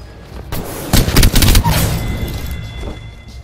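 A loud, close flurry of gunfire in the shooter game Apex Legends, several rapid overlapping shots and cracks peaking mid-clip, then fading into a reverberant tail.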